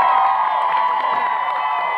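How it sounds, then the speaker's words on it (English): Studio audience on a Saturday-morning children's TV show in 2000 cheering and applauding a celebrity guest couple's entrance: a steady, loud wash of crowd noise with whoops and children's shouts, continuous throughout with no speech over it. "please give a very big hand for Jonathan Kerrigan and Linda Bellingham"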